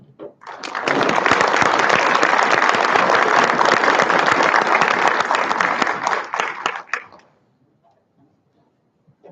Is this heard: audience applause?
yes